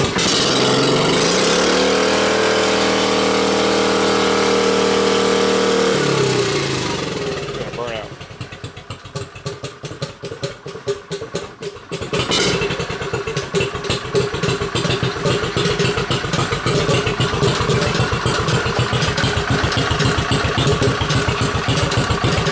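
A Chinese 50cc scooter engine runs nearby with a rough, clattering buzz that dips and changes pitch partway through, then settles into a steady rapid putter, with a voice talking over it.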